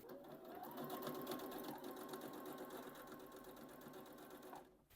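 A sewing machine runs steadily for about five seconds, stitching the end of a jacket being sewn from a Burda Style pattern, with a continuous close whirring hum that stops abruptly at the end.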